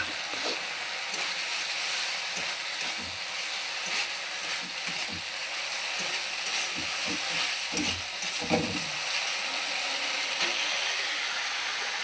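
Chana dal sizzles steadily in hot oil in a pan for a vegetarian banana flower curry, a constant fine hiss with scattered spoon clicks and scrapes as it is stirred.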